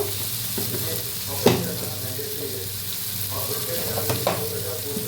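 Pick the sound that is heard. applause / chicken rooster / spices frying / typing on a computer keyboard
spices frying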